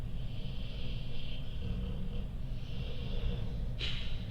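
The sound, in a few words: dog snoring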